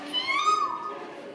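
A voice imitates a sparrow in one short, bright chirping call, with a rising whistle-like tone, heard close and alone.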